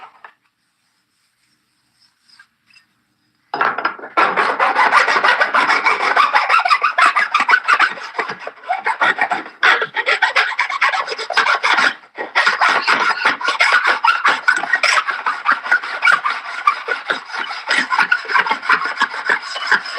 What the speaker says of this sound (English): Get the good old-fashioned file.